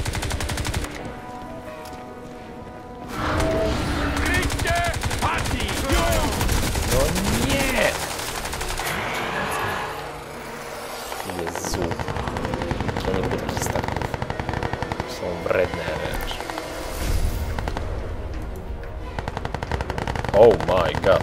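Automatic weapon fire from the video game Crysis 2, long sustained bursts of loud machine-gun fire with explosive crackle running nearly throughout, under players talking.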